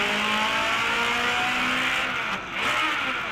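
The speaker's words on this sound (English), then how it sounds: "I got another nice missed shift coming up here." A historic race car at the 2012 Sonoma Historics, its engine howling loud and steady at high revs, then briefly dropping off near the end as a gear shift is missed before the roar picks up again.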